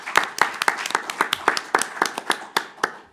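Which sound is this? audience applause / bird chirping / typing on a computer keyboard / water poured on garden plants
audience applause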